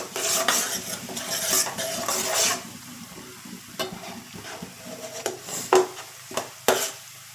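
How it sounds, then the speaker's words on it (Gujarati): Medium-sized onions, finely chopped, are stirred slowly in a pan over low heat, a spoon scraping and clinking against the metal with a faint sizzle underneath. The strokes are irregular, with a few sharper knocks near the end. "ધીમા હાથે ડુંગળીને હલાવીશું"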